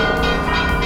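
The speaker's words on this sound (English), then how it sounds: "It is remarkable and quite impressive when the cathedral's bells are set off in full voice." Cathedral bells in Sofia, Bulgaria peal in full voice, a dense, loud wash of overlapping ringing tones filling the whole moment without pause.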